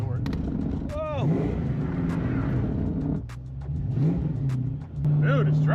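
A Ford Foxbody car with a 357ci Windsor V8 revs and drives off, its engine drone loud and steady under excited voices talking throughout.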